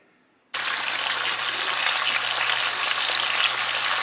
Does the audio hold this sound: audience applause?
no